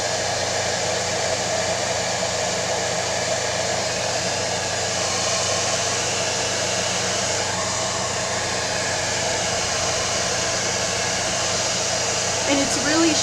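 A blow dryer blasts continuously while drying a decoupage wood sign, a steady, loud rushing whoosh of air held close for the whole stretch, with a faint voice briefly near the end.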